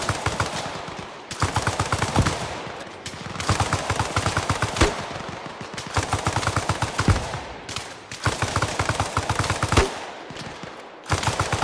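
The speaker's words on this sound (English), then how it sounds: "I want to hear that machine gun. Let me hear it just sing." Arma Reforger machine gun firing in long sustained bursts, a dense rapid rattle of shots with brief pauses between strings, loud and close, without talk.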